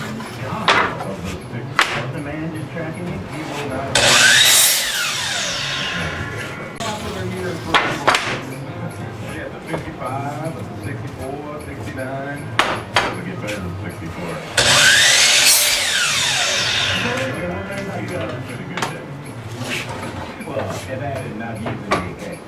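A power tool trues up the ends of wooden pieces for a DIY casement window build, with two loud, harsh bursts of cutting that rise and fall over a steady background while a person talks throughout.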